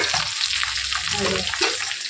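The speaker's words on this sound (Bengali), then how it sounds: "কলমি শাক বসেছি কালো জিরে আর কাঁচা লঙ্কা ফোড়ন দিয়ে নুন হলুদ দিয়ে দিয়েছি" Water spinach fries in a pan tempered with nigella seed and green chilli, a continuous close sizzle and crackle with stirring over a short stretch, no voices.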